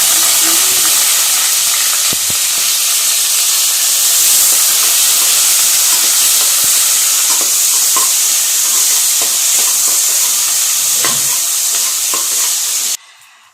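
Sliced onion going into hot oil with cinnamon and clove, frying with a loud, continuous sizzle and hiss and a few faint clinks. It cuts off abruptly near the end.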